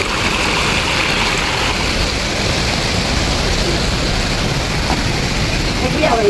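Water spills down the Pico Stream Cascades in a Singapore park, giving a steady, close rushing wash that holds even throughout.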